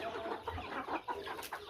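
Several chickens cluck nearby in short, uneven bursts, with a sharper squawk near the end.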